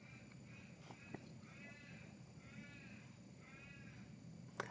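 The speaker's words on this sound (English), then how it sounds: "And that's a crow." Crows cawing outdoors in a few short harmonic calls at a moderate distance, with other birds faintly around and a low steady background hum.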